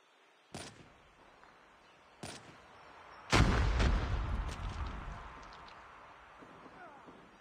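A frag grenade explosion in a Call of Duty ranked match on the Cordite map, preceded by two sharp distant gunshots, the blast booming loudly and rumbling away over several seconds.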